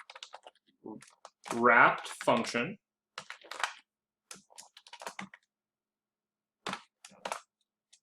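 Computer keyboard typing while coding, with quick clicky keystroke bursts between and under a man's speech.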